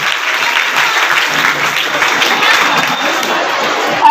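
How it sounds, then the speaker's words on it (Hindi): Loud, steady applause from a school audience at an Independence Day gathering honouring a top-ranked student, a dense continuous roar of clapping with crowd murmur mixed in. "तालियों के साथ सम्मान करेंगे।"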